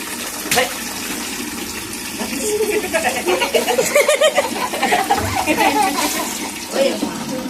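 Water gushes and splashes steadily, a loud churning flow with rising bursts, heard on its own without speech.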